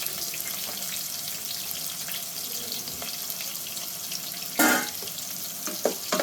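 Shallots fry in sesame oil for a brinjal and drumstick kara kuzhambu, making a soft, continuous sizzle close by, with a brief louder burst of crackling and a few clinks near the end; no one speaks.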